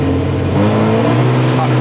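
A drift car's engine drones steadily at close range for under two seconds, holding a sustained tone with a slight rise as more throttle is given, while people talk faintly over it.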